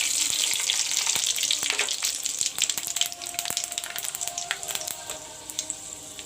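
Panch phoron spices hit hot mustard oil and set off a crackling, spattering sizzle. Dense pops and splutters are loud at first and ease slightly as the frying settles.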